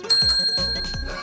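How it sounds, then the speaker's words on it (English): A small bicycle-style bell rings in a quick series of bright, close, metallic dings, about three strikes within a second. "A bell! Listen!"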